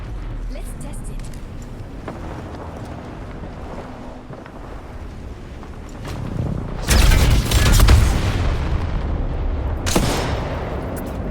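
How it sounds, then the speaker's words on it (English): Automatic cannon fired in the video game Apex Legends, heavy booming blasts in two bursts, the first longer and louder, over a constant windy rush. "Automatic cannon is a feat of ingenuity. Let's test it."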